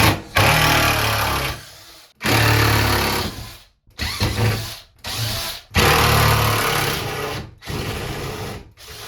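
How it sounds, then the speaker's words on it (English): A power drill backs temporary screws out of garage shelving, running in several loud, close whirring bursts of a second or two each, separated by short pauses. "We are removing these temporary screws."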